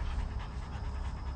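A hunting dog in retriever training pants quickly and close by, a steady run of rapid breaths with no voices over it.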